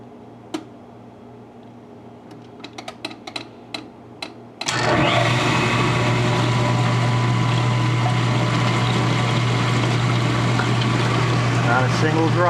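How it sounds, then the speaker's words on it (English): KitchenAid dishwasher starting up: a few soft clicks and ticks, then a sudden steady low motor hum with rushing water and pump noise that continues, heard close. Talk is present early on. "It's going to start up in a moment."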